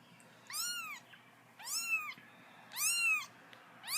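A newborn kitten meows three times in clear, rising-and-falling cries spaced about a second apart, close to the listener with a soft background hiss between calls.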